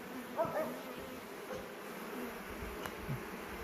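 Honey bees buzz softly at an open hive, a faint, continuous drone with occasional closer individual bees passing by.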